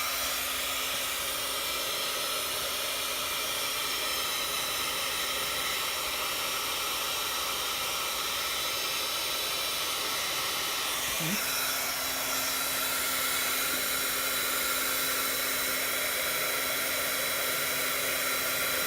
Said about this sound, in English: the longer you hold the heat tool over your vellum, it can start to warp